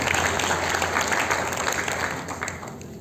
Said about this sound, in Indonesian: Tepuk tangan paling meriah.